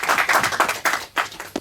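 A studio audience on a junior TV quiz show claps for a guest in a short, lively burst of applause that thins out toward the end.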